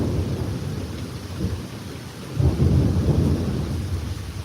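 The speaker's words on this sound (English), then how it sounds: "The storm's getting bad." A morning thunderstorm with a steady rush of heavy rain and deep thunder rumbling throughout. The thunder swells louder about halfway through, and no one speaks.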